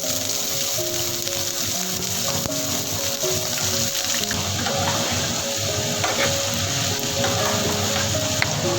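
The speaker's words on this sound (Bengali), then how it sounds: "তেলটা ভালোই গরম হয়ে এসেছে, এবার আমি সবজিটা দিয়ে দেবো।" Vegetables fry in hot oil with a continuous loud sizzle and crackle, broken by the occasional stirring scrape, holding steady throughout with no talking.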